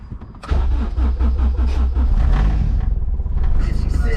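A K24 Civic hatch engine cranks and catches after a brief quiet moment, then settles into a loud, lumpy idle with a pulsing exhaust note and possible exhaust leak, close up; a voice speaks briefly over it.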